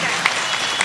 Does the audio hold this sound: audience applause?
yes